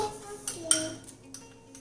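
A spoon stirs cornflour into milk in a metal pot for homemade chocolate ice cream, with a few light clinks and scrapes at irregular intervals, quiet and close, with no voices.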